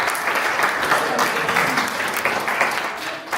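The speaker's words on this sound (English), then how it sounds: "Clap hands for me." A class claps hands in a classroom during a life sciences lesson, a loud, close burst of mixed clapping holding steady throughout.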